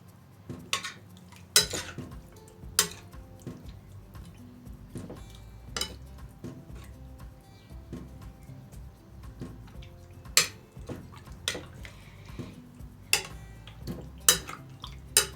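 Chicken liver and gizzard being stirred in a marinade, with light clinks and scraping of a utensil against a bowl scattered across a quiet background, several sharper taps standing out.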